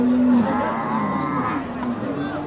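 Cattle moo nearby at a roadside Eid cattle market, one long low call followed by fainter lowing, with a murmur of crowd in the background.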